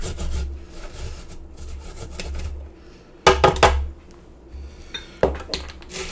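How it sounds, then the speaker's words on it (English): A garlic clove is grated on a microplane, giving repeated close rasping strokes with a few sharper scraping bursts and no talk. "And then just got a clove of garlic. I'm going to microplane on in there."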